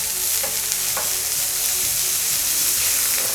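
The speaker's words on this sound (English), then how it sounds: "Then we gonna add the onion and garlic. So let's fry them all." Onion and garlic fry in hot oil for a prawn curry, a dense, loud, continuous sizzle with faint stirring scrapes, and no voices.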